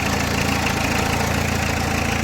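A Peugeot 205 Dturbo diesel engine idles after a restart, a steady, close, rhythmic knocking rumble with even pulses throughout and no talk.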